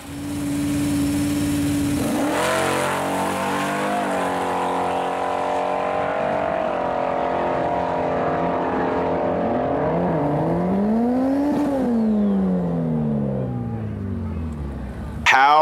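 A Buick LeSabre drag racing car that runs nine-second passes roars loudly, revving and rising in pitch as it accelerates hard, the engine note sweeping up and down before cutting off.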